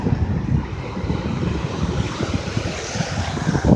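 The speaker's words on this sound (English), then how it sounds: "Man, these waves are, I mean, I love the waves," Ocean waves break on a summer beach, a loud rolling wash of surf with gusty wind buffeting the microphone, steady and close with swells rising toward the end, no talking.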